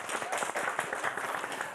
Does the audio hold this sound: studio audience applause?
yes